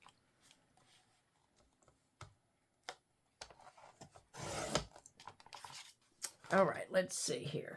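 Paper being cut with scissors for a multi-pocket paper craft, a few short crisp snips and tearing-like bursts, close by, with a person talking between and over the cuts.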